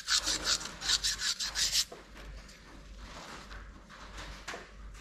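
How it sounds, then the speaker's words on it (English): An engine part from a 1991 Mitsubishi 4G64 8V SOHC engine is rubbed with 1200 emery tape, giving rhythmic close scraping strokes for about two seconds before fading to a faint quieter rasp. "you want to polish it, something like 1200 emery tape"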